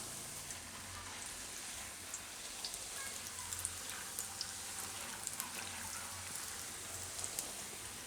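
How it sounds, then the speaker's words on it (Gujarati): Sabudana puris, a few at a time, frying in hot oil, giving a steady, dense crackling sizzle with fine popping bubbles throughout, fairly quiet and with no voices. "તો આમાં આપણે હવે પૂરી તરવા નાખી દઈશું."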